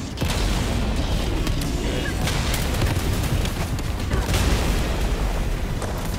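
Battle explosions in the video game Helldivers 2 during a fight against Automatons roar continuously, with dense, loud booming blasts and crackling bursts layered over each other for the whole stretch.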